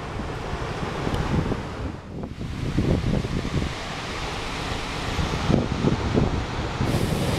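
Ocean surf rolls in on the Lost Coast beside a wide meadow and hills, wind buffeting the microphone in strong gusts while waves wash and break at a distance, with no voices.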